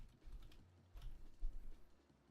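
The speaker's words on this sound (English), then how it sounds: "typing in Chains of Fantasia" Fingers tap a computer keyboard in short, irregular bursts of quiet clicks, faint and close.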